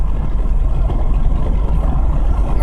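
A black car with white stripes and a white interior cruises down the interstate at about 70 miles an hour, heard from a following vehicle as a steady, loud low engine and road rumble with no pauses.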